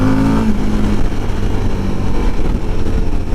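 A 2023 Suzuki V-Strom 1050DE V-twin motorcycle on its factory exhaust runs continuously: a loud, close, low rumbling engine note with a gruff, uneven pulse throughout the short stretch.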